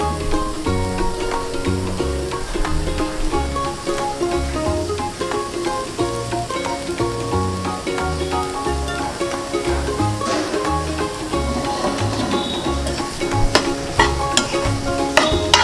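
Mango pulihora rice stirred in a pan, a steady scraping and light sizzling that runs the whole time, with music playing over it.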